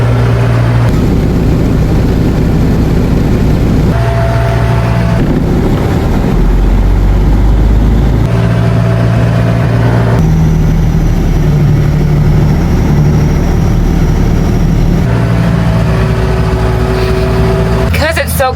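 A tractor engine drones steadily during a cold nighttime grape harvest, heard from inside the cab as a loud, low, continuous rumble with slight shifts in pitch.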